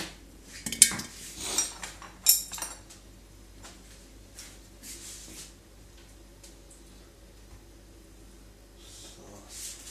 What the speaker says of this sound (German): Ab und zu mal den Sud umrühren.